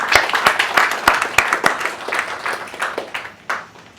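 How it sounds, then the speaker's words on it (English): Audience applause fills the room with dense, steady clapping and sharp individual claps, fairly near and continuous, tapering slightly toward the end. "I think we should clap that sentiment of Fidel"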